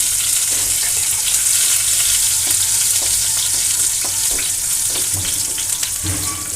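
Green chillies fry in a pan for aloo paratha filling, giving a steady, close hiss of oil with scattered soft stirring taps throughout, and no voices.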